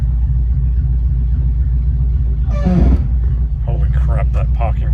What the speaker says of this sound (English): Holy crap, that parking brake is noisy